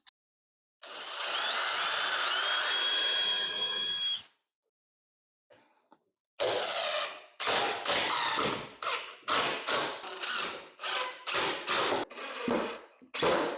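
A power drill drives screws into bookshelf boards: first one long continuous whine of about three seconds, then after a pause a rapid run of short bursts and pulses, close and loud, with no talk.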